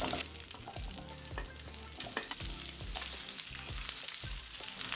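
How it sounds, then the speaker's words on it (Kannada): Thick-sliced onions fry in chilli-infused oil for onion gojju, a steady close sizzle and crackle with occasional spoon scrapes and stirs against the pan, no voices. "ಈರುಳ್ಳಿ ಎಲ್ಲ ಸ್ವಲ್ಪ ಫ್ರೈ ಆಗಿದೆ."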